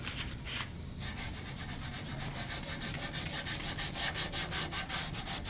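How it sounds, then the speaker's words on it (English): A wooden chair being sculpted is sanded by hand, a faint, steady scratchy rubbing that turns into rhythmic back-and-forth strokes toward the end, with no voices. "I think we're done watching you sand, Robert."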